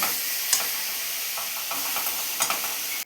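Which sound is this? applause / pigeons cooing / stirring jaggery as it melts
stirring jaggery as it melts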